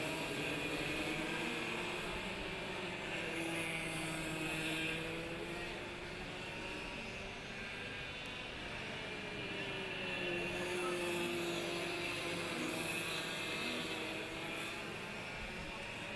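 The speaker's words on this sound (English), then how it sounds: "Young Campbell Thompson begins his final tour of the Hurricane Go-Kart Club circuit on the way towards the S's." Go-kart engines race around the Hurricane Go-Kart Club circuit in a finals event, a steady distant droning whine that rises and falls as the karts lap, heard under a commentator's speech.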